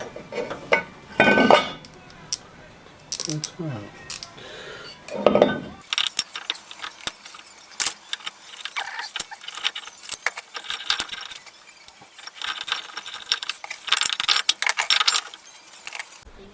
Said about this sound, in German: Ich löse als erstes den Zahnriemenspanner der 13er Nuss.